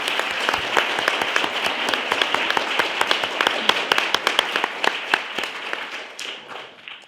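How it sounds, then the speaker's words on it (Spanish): A conference audience gives a warm round of applause, many hands clapping in a dense, lively patter that holds for several seconds before thinning out toward the end. "Un aplauso."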